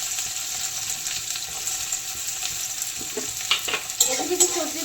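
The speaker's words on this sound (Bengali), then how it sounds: "অয়েল গরম হয়ে গেছে, এর মধ্যে একটু পেঁয়াজ কুচি" Chopped onion and green chilli frying in hot oil, a quiet, even sizzle heard up close, with a few soft clinks and stirring knocks toward the end.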